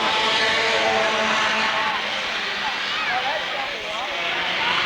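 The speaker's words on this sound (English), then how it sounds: "The field picks it up, coming on a far green flag, and we're racing." A field of race cars takes the green flag at Rockford Speedway during a 1994 championship night, their engines a loud, continuous roar that builds together, under a track announcer's commentary.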